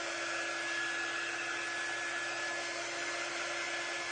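A hair dryer drying a craft project before a napkin is applied, a steady, loud, close whirring hum with a constant tone that runs unbroken throughout.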